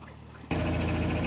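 A narrowboat engine starts running loudly partway through on a canal towpath, a steady dense mechanical drone that stays constant after a brief quieter lead-in.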